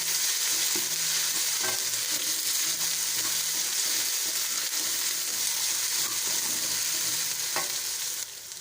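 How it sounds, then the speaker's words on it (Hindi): Garlic ginger paste fries with browned onions in a pan, a continuous close sizzle with occasional scrapes of stirring, steady throughout. "अब हम इसमें लहसुन अदरक का पेस्ट डालेंगे और इसको भी 1-2 मिनट हम भून लेंगे अच्छी तरह से"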